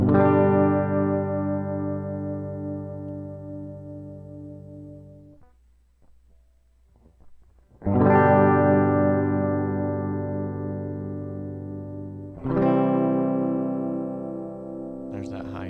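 Three sustained electric guitar chords through a Warman Mirror Man bridge humbucker pickup ring out and decay slowly, each struck loudly with a bright, full tone, with a faint high-end hiss between them.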